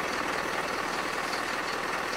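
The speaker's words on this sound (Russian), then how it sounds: "обороты двигателя 600, ну и в принципе достаточно устойчивые" A Mercedes-Benz Vario truck engine idles steadily at about 600 rpm, producing a continuous, even diesel rumble with a low pulsing throb. It is fairly faint, with no talking.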